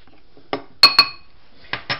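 A utensil clinks against a bowl while flour is stirred with salt and pepper: a few sharp metallic taps and scrapes in quick pairs, close and clear with no talk.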